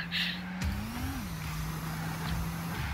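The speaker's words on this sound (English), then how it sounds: "this car sounds nice" Rocket League car engine as a steady mid-pitched drone that briefly rises and falls, played quietly without anyone speaking.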